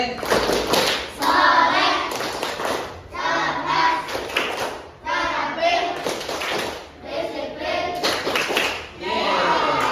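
Children perform the SDIT school clap chant, a patterned run of rhythmic hand claps mixed with voices chanting together, steady and fairly loud throughout with brief pauses between phrases.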